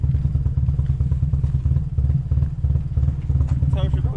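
A cammed engine in a convertible idles with a loud, choppy, lumpy rhythm of even low thumps, close up, with a brief voice near the end.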